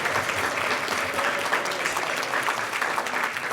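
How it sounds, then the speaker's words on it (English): A standing audience at a closing plenary session gives a round of applause for the faculty advisors: full, continuous clapping from many hands, steady and fairly loud throughout. "please give a round of applause to your faculty advisors"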